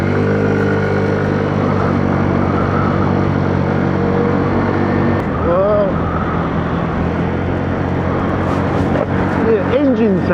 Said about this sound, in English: It goes from sounding purring on quite nicely like that, like a blender, to sort of this sort of lumpy chuffing sound